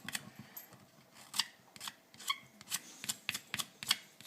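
Scraping strokes run along a rubber RC tire (2.8 Proline Trencher mounted on a 3.2 RPM Revolver wheel) to clear excess material, a series of close, crisp, rasping swipes repeating at an uneven pace over quiet background.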